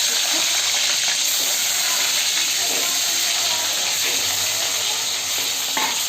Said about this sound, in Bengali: এরপর ডিমগুলো ছেড়ে দেবো,